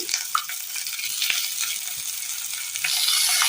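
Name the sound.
garlic, ginger and shallots sautéing in a pan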